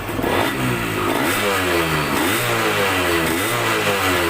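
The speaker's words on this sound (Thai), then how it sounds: "เวลาเรา เร่งคันเร่งนะครับ" A Yamaha DT125 two-stroke motorcycle with a freshly tuned square-slide carburetor revs steadily and loudly, the engine note rising and falling in smooth sweeps, close by and with no voices.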